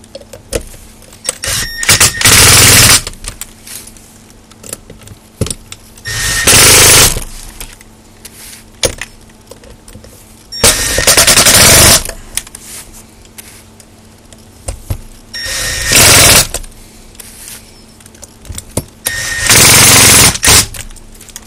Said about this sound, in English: I want to hit it with the impactor.